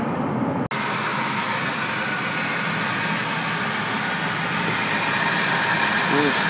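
A Ford F150 pickup truck idles in a steady, continuous rumble, close and fairly loud, with an even drone that holds without revving.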